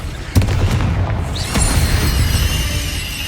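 Spell explosions from Bombarda and Confringo in the Hogwarts Legacy video game: two sharp booms at the start and near the middle over a dense, continuous rumble of combat noise.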